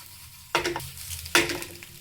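Eggs frying in masala gravy for palak egg masala, with two sharp scraping stirs of the spatula against the pan and a faint steady sizzle running underneath.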